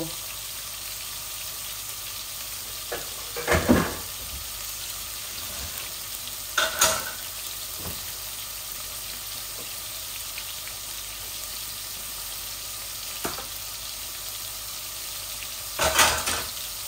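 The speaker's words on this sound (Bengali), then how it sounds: "আমার পেঁয়াজগুলো একটু ভাজা ভাজা হোক, তারপর আমি সিমগুলা ঢেলে দিব।" Onions frying in a pan before flat beans go in, for a Bangladeshi rohu fish curry with radish and flat beans: a steady low sizzle throughout, broken by a few louder stirring scrapes.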